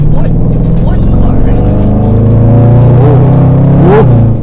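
A Range Rover Sport SVR engine drones and revs up and down while driving, loud and close, with steady road noise underneath and no talking.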